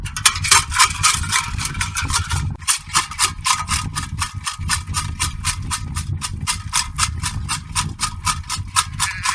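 Rapid, regular metallic rattling of a bucket shaken to call sheep to food, repeating steadily over a low rumbling background.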